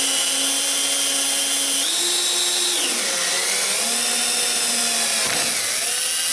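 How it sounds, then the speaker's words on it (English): A power drill boring through metal for Chevy truck side steps, a loud continuous motor whine that dips and shifts pitch as the bit bites and slows, close up with no voices. "You can either drill through or push it through, one way or the other."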